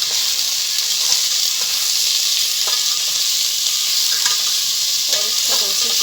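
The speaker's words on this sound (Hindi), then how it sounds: "देखें हमारे लहसुन अदरक और प्याज और चिकन अच्छे से फ्राई हो गया है।" Chicken pieces with onion and garlic-ginger paste frying in a pan, a loud steady sizzle with occasional stirring scrapes and clinks, close up and with no talking.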